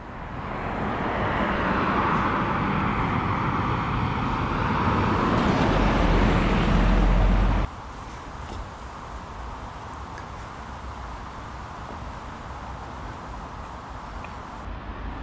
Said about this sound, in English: Cars go over the river, and we're just above the motorway, heading down here.